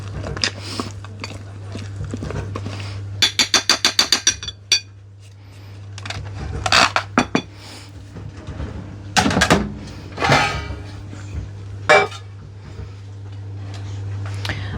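Batter is stirred in a bowl with a spoon, making a quick run of rhythmic clinking taps and scattered scrapes and knocks against the sides, close and intermittent over a low hum.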